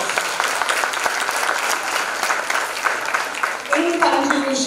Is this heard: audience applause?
yes